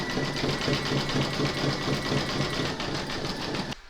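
Embroidery machine satin-stitching the outer edge of a floral calla lily coaster, a steady rapid mechanical whir with a regular needle rhythm running loud and continuous, then stopping abruptly at the end.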